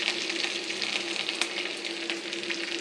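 Squeezed boiled jackfruit goes into a hot tempering and fries with a steady, close sizzle, broken by a few brief crackles and stirring noises.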